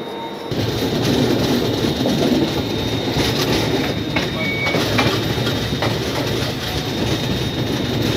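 A passenger train stands at platform 1 of Kishanganj railway station, its steady mechanical rumble and hum continuous throughout, with faint beeps and clanks mixed in and people talking over the noise.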